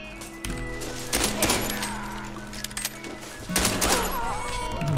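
Bursts of gunfire in a shooter video game, sharp cracks in rapid clusters with metallic clatter and thuds, mixed with in-game tones and a faint background voice.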